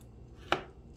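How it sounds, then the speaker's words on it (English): A knife chopping avocados on a cutting board, a single short, crisp chop midway through, fairly close and alone against faint background noise. "you're just chopping up the avocados"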